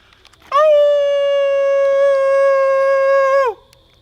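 A person imitates a wolf howl: one loud, close, sustained tonal note lasting about three seconds, rising sharply at the start and dropping off at the end over a quiet background.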